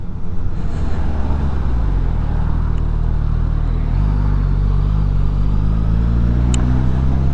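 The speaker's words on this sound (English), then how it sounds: "It is a 999 inline 4 engine, which likes to scream as far as I'm aware." A Suzuki GSX-S1000GT motorcycle's 999cc inline-four engine runs alone, close and loud, with a steady deep idle that rises in a few stepped revs.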